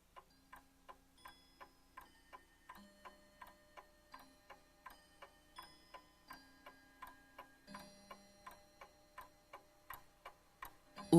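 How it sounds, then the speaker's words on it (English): Household clock ticking in a steady, even rhythm, about two ticks per second, close and clear, with faint tonal hum and no voices. "The clock marking off each hour of dread"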